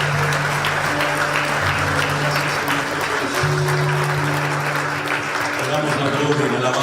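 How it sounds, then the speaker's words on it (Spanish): A church congregation applauds during a Spanish-language service, sustained loud clapping throughout, with voices and sustained tones carrying over the applause. "Fuerte ese aplauso a nuestro Dios"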